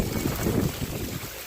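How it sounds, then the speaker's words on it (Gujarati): A brief burst of heavy rain driven by strong wind makes a loud, continuous gusting roar with rough, buffeting low rumbles. "જબરજસ્ત વરસાદ પવન જોડે છે"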